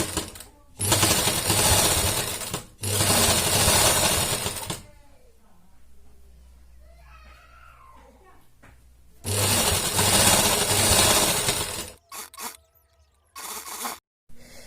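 Sewing machine stitching a pleated strip onto a newborn baby cap, running in two loud sustained bursts with a quiet stretch between them where a voice talks softly, then a few short stops and starts near the end.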